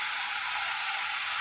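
Tomatoes and curry leaves sautéing in a pan for chutney, a steady even hiss of frying, soft and continuous, with no talking.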